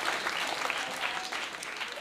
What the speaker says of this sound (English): Round of applause for our third card on.